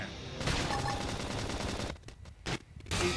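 Rapid bursts of video game gunfire from Xenoblade Chronicles X, loud and dense, with brief gaps between volleys.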